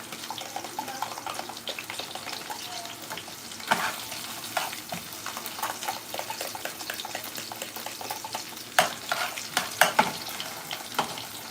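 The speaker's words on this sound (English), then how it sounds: "I'm adding the tomato paste to the onions" Tomato paste fries with onions in a pan for jollof rice, a continuous close sizzle with intermittent scraping and clicking from stirring, no speech.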